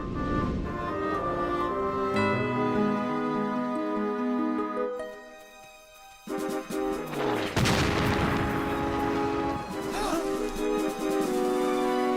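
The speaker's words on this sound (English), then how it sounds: "Cannon! And they're close." Heavy booms and crackling blasts burst out after a stretch of sustained musical tones, rolling and echoing for several seconds.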